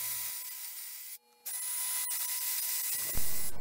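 A hole saw grinds and rasps steadily into wood, pausing briefly before resuming, with a louder scraping surge near the end.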